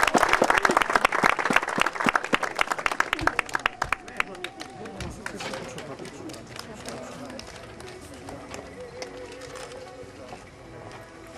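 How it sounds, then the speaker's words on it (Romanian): Audience applause at a 2013 Rotary rally awards ceremony in Gherla: loud sharp claps at first that thin out into scattered clapping, with someone talking over the later part. "Felicitări, aplauze."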